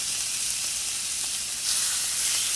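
Steady, loud hiss of food sizzling in a hot skillet, continuous and close, swelling slightly midway, with no talking.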